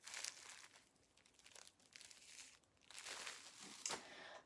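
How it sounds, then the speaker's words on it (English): Tissue paper rattling and crinkling inside a fabric package, in quiet close-up bursts of crumpling that rise and fade several times, with no talking. "it even has tissue paper in it. That's what that rattling is that you can hear."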